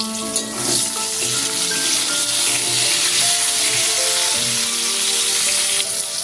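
Pointed gourd pieces frying in hot oil with salt, a loud close steady sizzle with crackling spatter and occasional stirring clinks.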